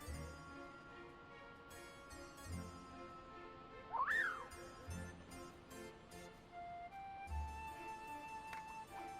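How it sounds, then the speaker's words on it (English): A character in Final Fantasy XI blows a whistle, a single rising and falling shrill tone heard over soft game background music. "She blows in a whistle of some sort."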